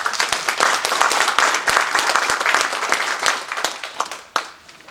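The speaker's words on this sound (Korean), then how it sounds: "우리 시간 박수로 환영하도록 하겠습니다" Audience applause at a Korean-American church conference on North Korean mission work welcomes a speaker, dense, loud clapping sustained throughout before tapering slightly at the end.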